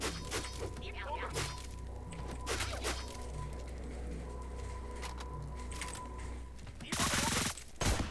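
Gunfire in the Deadbolt video game: scattered quick shots early on, then a loud dense burst of rapid fire near the end, mixed with game sound effects.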